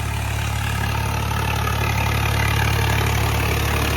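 A tractor engine running steadily nearby, a constant low throbbing rumble with no pauses or other sounds.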